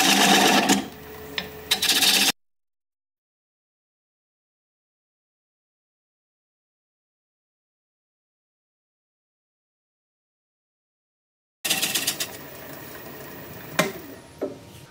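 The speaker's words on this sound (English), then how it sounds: "we'll just take a half-inch bowl gouge and commence to removing the tenon about 500 RPM." A half-inch bowl gouge cuts a tenon off a turning bowl on a wood lathe at about 500 RPM. A loud, rough cutting whir comes at the start and again at the end, with a long silent gap between.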